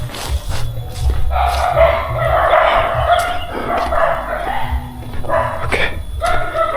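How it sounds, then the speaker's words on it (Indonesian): A dog barks repeatedly in a forest, short yips and woofs coming in uneven bursts over steady outdoor background noise, fairly loud and close. "Mudah-mudahan ini guguk pemilik rumah yang saya kunjungi ya."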